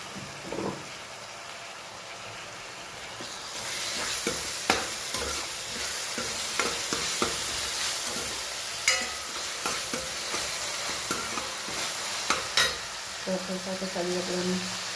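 Chopped tomato hits a hot pan of sautéed onions and sizzles steadily, with a spoon stirring and scraping against the pan at intervals.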